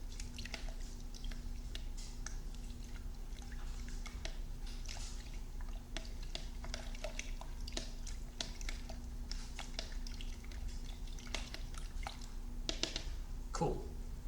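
Acrylic green paint and water being stirred together in a container: a steady, wet, squishy churning that runs throughout at close range, with small drips and clicks scattered through it.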